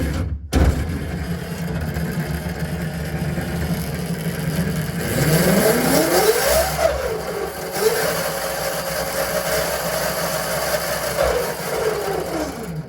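Electric motor on a homemade Ferrari go-kart being throttle-tested indoors: a whining tone sweeps up, drops back and holds steady before winding down, loud and close over a constant hum.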